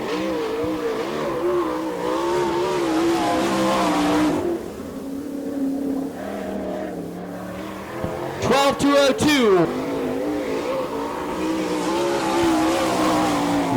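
Sprint car engines roar on the Lawrenceburg, Indiana dirt track during an All Star Circuit of Champions Hoosier Fall Classic, a loud continuous drone that dips mid-way and surges with a sharp rising rev near the end, under a public-address announcer's voice.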